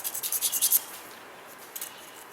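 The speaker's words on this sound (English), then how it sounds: "I just used the sandpaper backwards and everybody saw it" Sandpaper rubbing back and forth in quick, scratchy strokes during work on a vehicle charging system, loud for under a second and then fading to a faint scrape.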